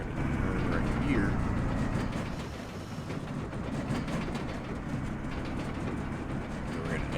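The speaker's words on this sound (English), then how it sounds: "if you hear kind of like that railroad effect, it's because of the trailer" A trailer hauled behind a truck in Farming Simulator 25 gives off a steady, railroad-like clatter and rumble, continuous and fairly loud over a low engine drone for the whole stretch.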